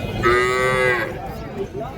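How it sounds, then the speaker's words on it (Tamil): A native-breed cow moos loudly in one long, drawn-out call lasting about a second at a cattle market, followed by quieter farmyard background noise. "ஸோ நாட்டு பசு மாடுங்க"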